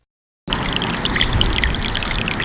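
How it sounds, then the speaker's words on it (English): Water pumps run in a storm-flooded basement, a steady loud rush of pouring, trickling water that starts abruptly and continues without a break. "Water pumps are running at Ron Kentop's home, going on nearly 40 hours after his basement flooded"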